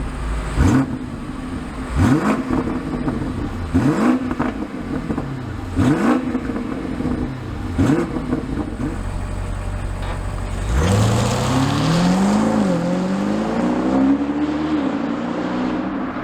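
A 2022 BMW Alpina XB7 SUV's engine and exhaust pulls hard through repeated rising revs with quick gear changes, then settles into a long, deep climbing drone, loud and close with no talking.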